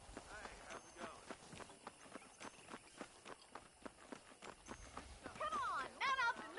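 Horse hooves clip-clop at a steady trotting rhythm while riding in the Western video game Red Dead Redemption, moderately close, with rustling and some game voices or calls rising toward the end.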